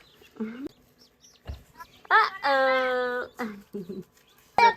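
Newly hatched chicks peep faintly in short, high chirps, mixed in with nearby voices talking.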